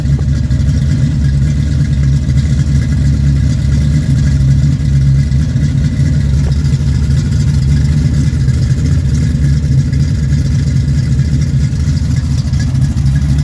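A factory iron-head Pontiac 455 V8 runs at a steady, loud, lumpy idle close by, its deep rumble continuous with no clear revving, and no one talking.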